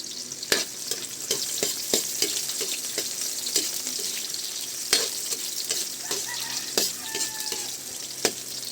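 Two onions and a head of garlic sauté in a pan with a steady sizzle, punctuated by sharp clinks of a utensil stirring against the pan.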